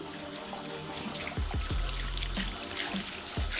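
Running water rinses out a hair system, a steady splashing trickle with a few soft thumps and drips, close and moderately quiet.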